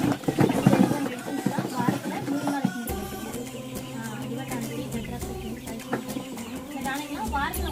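Two-month-old country chicks on a Tamil Nadu farm chirp and cluck in a dense, continuous chorus, with someone talking over them.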